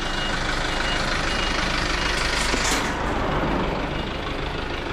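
A big blue truck moves along a narrow street near St. Lazarus Courtyard in Macau, its engine a loud, close, steady roar with a hiss of air partway through.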